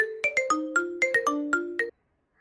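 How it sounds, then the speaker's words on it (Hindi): A melodic electronic ringtone plays a quick sequence of bright tones for about two seconds, then cuts off abruptly into silence. "किसका फोन आ रहा है?"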